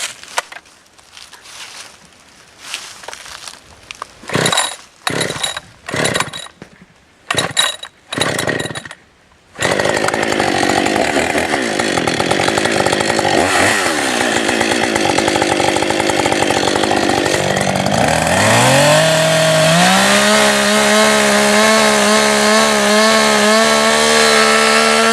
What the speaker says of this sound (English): We're going to cut from there forward and join that up behind that hinge.